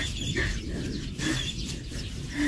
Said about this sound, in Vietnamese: trời ơi chim hót